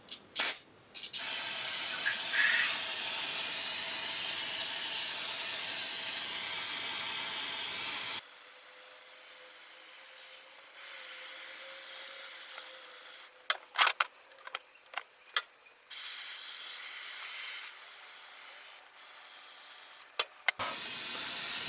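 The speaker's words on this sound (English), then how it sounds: "I'm going to spray some stuff down in here, some carb cleaner, just like this." Carb cleaner sprayed from an aerosol can into a Kawasaki KZ550 motorcycle carburetor, a sustained hiss for several seconds, then quieter bursts and short clicks of spraying in a workshop.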